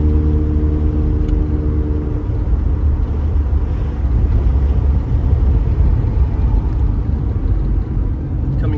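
A Mazda RX-7 engine with a Racing Beat exhaust idles loudly and slightly high with a deep, steady exhaust rumble throughout, close by and unbroken.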